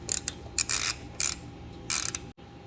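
A socket ratchet loosens the carburetor bowl bolt on a 212cc small engine, giving about four close, loud bursts of rapid clicking separated by brief pauses.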